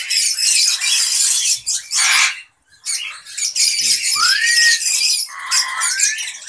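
African grey parrots in a breeding setup give loud, harsh squawks and screeches in bursts, with whistle-like sliding calls near the end.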